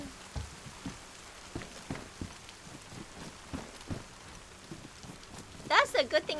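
Steady patter of rain with scattered drops and soft taps, ending in a brief louder burst, in the video game DayZ.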